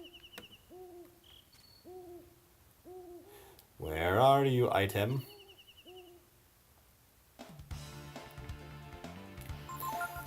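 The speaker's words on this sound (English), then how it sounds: "Okay, I even don't like that owl now. He's annoying me." Owl hooting from the video game Breath of Fire III, a run of short repeated hoots with a steady rhythm, interrupted midway by a burst of talk, then game music takes over.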